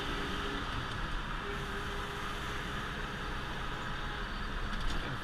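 Car engine accelerating steadily in fourth gear, a continuous broadband drone with road and wind noise, loud and even throughout with no talk.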